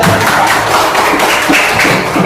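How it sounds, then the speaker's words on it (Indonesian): A group claps in a quick, uneven patter, loud and close, sustained throughout with scattered taps and thumps. "Tepuk tangan."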